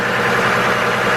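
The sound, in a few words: 2002 GMC Envoy engine idling rough, cylinder 3 misfire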